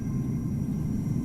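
Steady low rumble of a departing aircraft in Microsoft Flight Simulator at Amsterdam Schiphol, continuous and even throughout with no talk over it.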